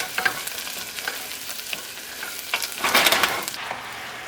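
Chopped tomato cooking in a pot makes a close, crackling sizzle with scattered pops and a louder burst of spattering toward the end.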